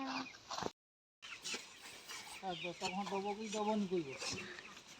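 Chickens cluck inside a chicken house in a series of short, repeated calls that grow busier toward the end, with a brief silent gap near the start.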